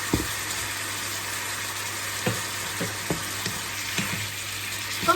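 Pumpkin and pork belly with fish sauce stir-fry in a hot pan, a steady close sizzle broken by a handful of sharp spatula knocks and scrapes spaced irregularly.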